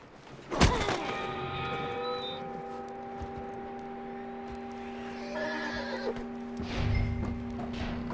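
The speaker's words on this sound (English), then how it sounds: "That looks like a decent horse." A horse in Red Dead Redemption 2 lets out a loud neigh and whinny, followed by a sustained tonal drone and a few hoof clops and thunks later on, with no speech.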